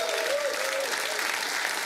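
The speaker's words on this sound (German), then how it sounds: "Schönen Applaus für die Agutta hier." A studio audience at a Swiss late-night comedy show claps for a guest. Dense, even applause is heard up close and fills the whole moment, with a brief voice faintly at the start.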